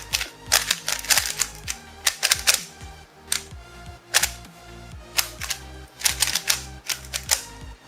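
Qiyi speed cube turned in quick bursts of scratchy, sharp plastic clicks, close and fairly loud, clustered in uneven rhythmic runs with brief pauses between, no talking.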